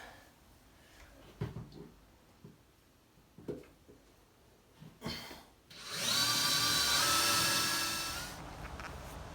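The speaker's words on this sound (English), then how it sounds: "let's drill that hole to the outside." A few scattered knocks and taps give way to a power drill whirring loudly through an exterior house wall for a few seconds, then trailing off.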